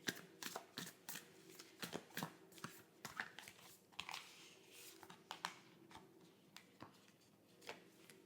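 A Moonology oracle card deck shuffled by hand in a quiet room, soft rapid riffling and tapping bursts repeating in a steady rhythm, close and delicate, with no talking.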